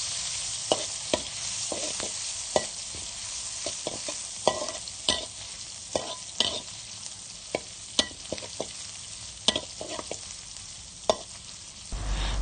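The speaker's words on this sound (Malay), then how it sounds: "Goreng ikan bilis ini sehingga berwarna keperangan." Small anchovies sizzle steadily in hot oil in a wok while a utensil scrapes and taps the pan at irregular intervals, close by.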